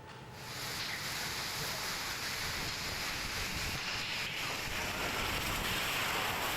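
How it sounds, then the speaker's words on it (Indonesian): Heavy rain driven by a strong windstorm in Margonda, Depok, a loud, continuous roaring wash of rain and gusting wind that rises at the start and then stays dense and unbroken, with no voices. "Hujan deras disertai angin kencang membuat papan iklan roboh menimpa mobil yang sedang parkir di kawasan Margonda, Depok"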